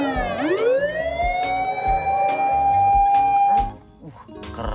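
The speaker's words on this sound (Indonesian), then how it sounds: "di sini kakak menemukan mobil ambulan teman-teman" A toy ambulance's electronic siren winds up quickly, then holds a loud steady tone with repeated beeps before cutting off. Someone talks over it nearby.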